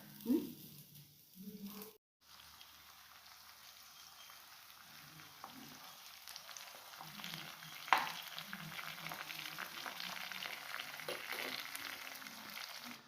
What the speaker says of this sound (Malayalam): അപ്പോൾ നമുക്കിത് കടുക് പൊട്ടിച്ച് റെഡിയാക്കാം